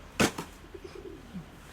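A sharp flutter or clap at the start, then soft, low pigeon coos trailing off, faint and fairly close.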